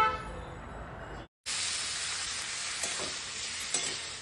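Garam masala, chopped garlic, onion and tomato, then chicken and potatoes, stirred and frying in white oil in a kadai; a steady close sizzle runs throughout after a brief silent gap, with occasional spatula knocks and scrapes.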